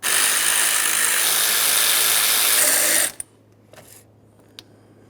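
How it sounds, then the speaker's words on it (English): A ratchet wrench clicks rapidly and continuously, loosening the 12mm mounting bolts on a 2009-2014 Nissan Maxima hood release latch, then stops, followed by a few faint knocks. "it's time to remove each of our 3 12mm headed mounting bolts holding this in place"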